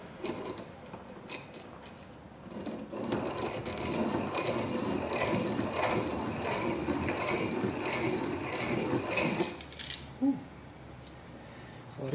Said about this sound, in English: A lot of grinding.